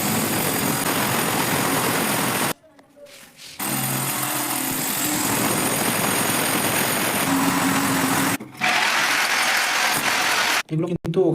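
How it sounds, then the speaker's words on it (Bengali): A power drill bores into a wall to mount a water geyser, grinding loudly and continuously in long runs broken by short pauses. "মাপ দেওয়ার পরে কিন্তু ড্রিল করতে হবে"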